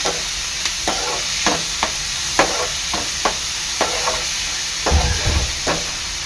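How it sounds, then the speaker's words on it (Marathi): Onion frying in a pan until golden for chicken vindaloo, a steady close sizzle punctuated by a regular series of sharp spatula scrapes and taps, about a dozen in a loose rhythm. "मला कांदा चांगला गोल्डन होईपर्यंत शिजवून घ्यायचं आहे"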